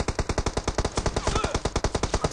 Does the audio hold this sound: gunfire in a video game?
yes